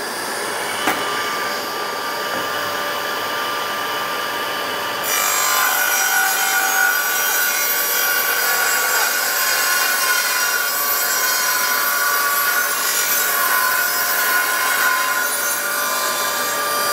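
A table saw hums steadily, then rises into a louder, continuous grinding whine as the blade bites through soft spruce wood.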